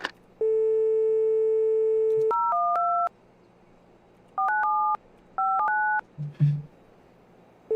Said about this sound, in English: the dialing on the number pad in game always screws me up